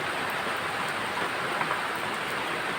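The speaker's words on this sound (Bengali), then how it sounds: "আর এর ভিতরে বৃষ্টি, ধুমসে বৃষ্টি" Heavy rain pours down in a dense, even rush of noise that stays loud and constant throughout, with no voices.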